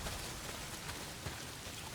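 Heavy rain pours steadily in the Days Gone video game, a dense, continuous hiss of drops close by with no voices over it.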